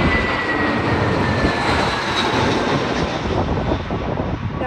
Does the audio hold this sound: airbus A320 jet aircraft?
yes